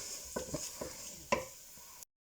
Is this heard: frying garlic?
yes